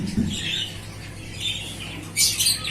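Budgerigars in an aviary give bright, chattering squawks and chirps in overlapping bursts, fairly close and continuous, with a louder cluster of calls near the end and no talking.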